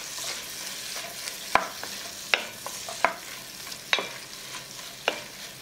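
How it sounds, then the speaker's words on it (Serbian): Leek, onion and four garlic cloves fry in leftover meat fat, giving a soft continuous sizzle broken by several sharp spoon scrapes and clicks as the pan is stirred. "Na istoj toj masnoći propržit ću praziluk, luk i 4 čena belog luka."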